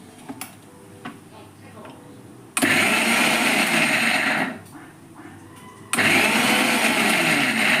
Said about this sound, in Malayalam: തേങ്ങായും ഞാൻ ചതച്ച് വെച്ച കടുവും വെളുത്തുള്ളിയും ജീരകവും പിന്നെ മഞ്ഞപ്പൊടിയും എല്ലാം കൂടെ ഒന്ന് ചതയ്ക്കാൻ പോവാണേ മിക്സിയുടെ ജാറിൽ